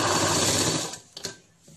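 Sewing machine stitching the waistband of a dhoti shalwar, running as a steady close whir for about a second before stopping, followed by a few faint handling clicks.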